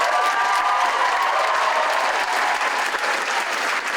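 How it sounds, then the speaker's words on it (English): A festival crowd at a Battlestar Galactica reunion panel at the ATX TV Festival gives a loud, dense, sustained round of applause that fills the room evenly from start to finish. "Let's have a round of applause for them."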